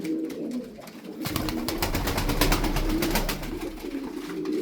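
Tumbler pigeons coo steadily at close range, a low murmuring chorus of overlapping calls with fluttery, busy background noise throughout.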